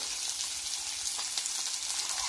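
Boiled tapioca pieces frying in oil with chopped onion and green chillies, a steady close sizzle with soft crackle running throughout, no voices.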